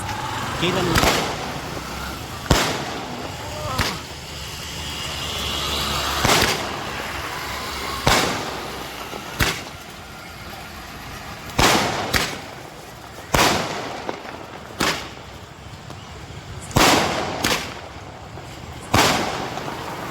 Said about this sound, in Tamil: நம்ம தண்டர் மல்டி கலர் வந்து நம்ம ட்ரை பண்ண போறோம்.